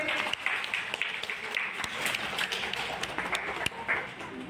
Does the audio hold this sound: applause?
yes